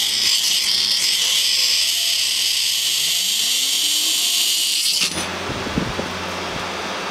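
Electric fuel pump with no front bearing running on the bench, a loud rough whine with rattling tone for five seconds, then shifting to a harsher buzzing hum.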